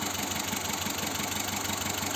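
A car engine idles with a misfire, giving a steady mid-pitched running drone with an uneven, knocking pulse and a shake in it. It is heard alone, with no voices.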